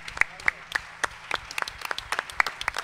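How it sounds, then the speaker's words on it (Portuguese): An audience at a live music performance gives a round of applause, with sharp, irregular claps spread across the moment at moderate, slightly distant level. "Uma vez mais, uma salva de palmas."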